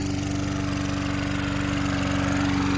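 A small engine with no carburetor, running on biogas made from food waste and fed through a single galvanized black pipe. It drones loud and steady with a fast, even pulse and a strong hum, and no one speaks.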